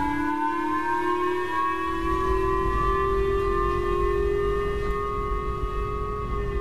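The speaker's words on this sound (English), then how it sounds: "Sirens and loudspeakers in Japan warning people to take cover and be prepared for a missile attack from North Korea." A civil defense siren wails steadily in Japan as a missile warning, its long sustained tones rising slightly in pitch over a low background hum.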